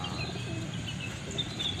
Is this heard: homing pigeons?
yes